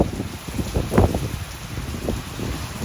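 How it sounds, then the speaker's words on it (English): Heavy rain pounding down during a windy storm at a horse property, a steady dense wash with low rumbling gusts and a few sharper knocks, fairly loud and close with no voices. "It's raining bloody hard."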